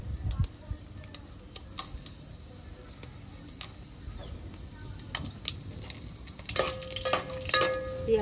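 Mustard seeds and dried red chilies sizzle in hot oil for sambar, a quiet, steady frying hiss broken by scattered sharp pops and crackles that grow busier toward the end.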